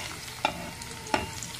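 Garlic dropped into hot cooking oil, probably for a squid and winter melon dish, frying with a steady low sizzle and two distinct clatters from a spoon or spatula against the pan. No one speaks.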